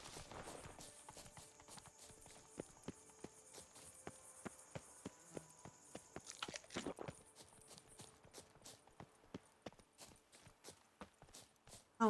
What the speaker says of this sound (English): The horse does not like us.